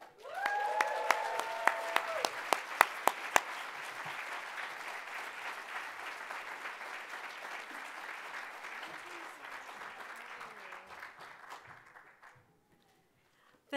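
A seated conference audience welcoming a speaker to the stage with sustained applause, dense clapping that holds steady for about twelve seconds and then stops abruptly.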